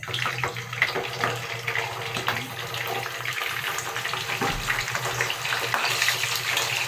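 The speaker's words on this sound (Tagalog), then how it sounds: "Mainit na yung ating mantika, pwede na ilagay itong isda." Continuous crackling sizzle of fish frying in hot cooking oil, a busy hiss with a low hum underneath, no one speaking.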